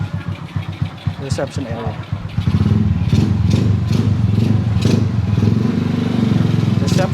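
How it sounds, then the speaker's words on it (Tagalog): A motorcycle engine starts with a clatter and settles into a loud, steady idle, close by, while people talk over it. "Ayan, may nagpapaandar ng motor."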